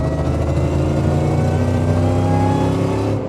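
A heavily modified Land Rover Defender driven off-road, its engine revving loud and close in a sustained, rising drone that holds for several seconds with no voices over it.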